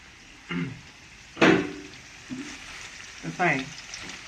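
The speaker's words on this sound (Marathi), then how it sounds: "कढईमध्ये तेल तापत ठेवलंय त्यामध्ये पहिल्यांदा मसाला भाजून घ्यायचा" Spice masala roasts in hot oil in a kadhai for a poultry chicken dish, a low continuous sizzle running beneath several short bursts of a voice.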